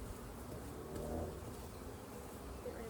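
Bees buzz around an open backyard beehive during a colony check, a faint, steady hum with a slightly louder moment near the middle and no voices.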